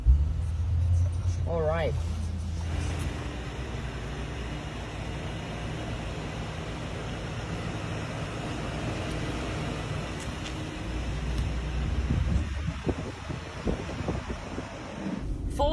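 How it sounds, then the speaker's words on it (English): Car with a four-liter V8 on the move, a steady low engine and road rumble with wind noise, heard from inside the cabin, with a brief spoken remark near the start. "Let's go for a drive."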